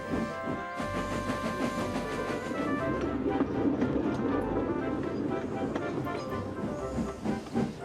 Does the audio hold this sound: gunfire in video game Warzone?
no